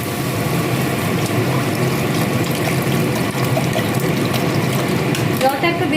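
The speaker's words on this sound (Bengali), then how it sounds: "এখন এর মধ্যে দিয়ে দেবো জল।" Water pours into cooked masala for a jackfruit kofta curry, a continuous splashing, gurgling stream with some metallic clatter, steady and close throughout.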